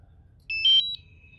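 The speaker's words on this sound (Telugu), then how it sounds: "సో ఈ బీప్ సౌండ్ వస్తే మీకు ఎవ్రీథింగ్ ఓకే." A DJI Mavic 2 Pro remote controller powering up gives a short, clear electronic beep of a few stepped tones, fairly close, over a quiet room.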